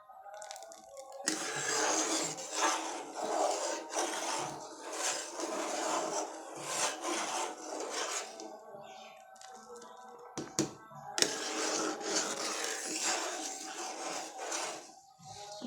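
A spoon scrapes and stirs thickening homemade cow's milk in a pot for a sweet dessert, a steady rubbing and scraping close up that pauses briefly midway before resuming.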